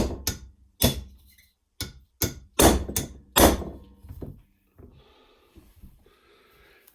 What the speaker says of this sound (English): And then we're just going to take a ball peen hammer. We're going to put that right over the dent.